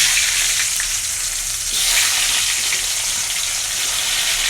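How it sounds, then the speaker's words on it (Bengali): Tomato pieces frying in oil left over from frying potatoes, a loud, dense, continuous crackling sizzle close up with no talk. "এখন আমি আলু ভাজার তেলের মধ্যে টমেটোগুলো দিয়ে দিব।"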